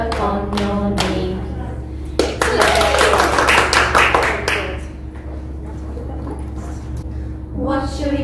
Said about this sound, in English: Clap your hands together, one, two, three